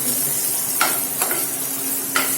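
Red chillies and green chillies sautéing in hot oil give a steady soft sizzle, broken by three brief scraping strokes of a spoon in the pan.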